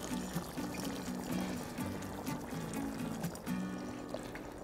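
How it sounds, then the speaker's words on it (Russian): Boiling water is poured into a kazan of pilaf with rice, a steady close gurgling pour that runs almost without a break. "Добавлять будем кипяток."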